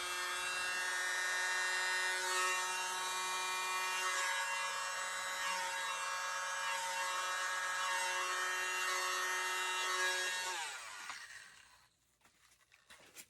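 A steady high-pitched whine of a small handheld dryer runs for about ten seconds, close and loud, then cuts off and fades into quiet.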